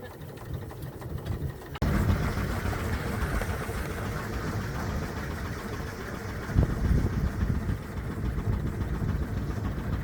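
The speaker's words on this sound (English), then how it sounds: "Nice quiet engine." A steady, low steam engine drone runs throughout at a steamboat meet, a smooth mechanical hum that jumps slightly louder after a couple of seconds, with a brief thump near the middle.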